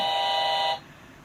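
A single bright electronic buzzing tone from a toy steering wheel's horn, close and loud, holding steady for under a second before cutting off abruptly.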